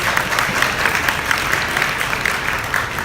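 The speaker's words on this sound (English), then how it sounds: "Can we give ourselves a round of applause, please?" Steady, dense applause from a graduation ceremony audience at a royal prince's school, a continuous even wash of many hands clapping at close range with no pause.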